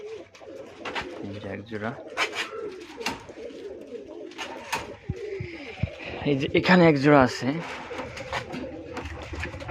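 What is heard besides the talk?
white master pair pigeons cooing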